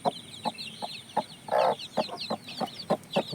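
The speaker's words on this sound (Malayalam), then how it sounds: "ഫസ്റ്റ് വിരിഞ്ഞ കോഴിയും കുഞ്ഞുങ്ങളും" A hen clucks in short, regular pulses while her week-old chicks cheep in high, rapid chirps around her, close and clear.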